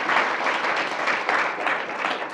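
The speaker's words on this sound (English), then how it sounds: "Let's give them a round of applause as we begin today's discussion." Sustained audience applause fills a room at the start of a discussion event with Ambassador John Bolton, dense steady clapping from a close crowd with no voices over it.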